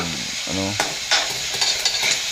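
Chicken liver and gizzard adobo seasoned with ground pepper is stirred in a hot pan, giving a steady sizzle with soft scraping and spoon clatter, close and alone.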